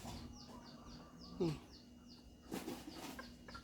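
Bantam chickens on a farm in Chanthaburi cluck in short, faint bursts with a busy background of bird chirps and rustling, with a couple of louder calls standing out near the middle and toward the end.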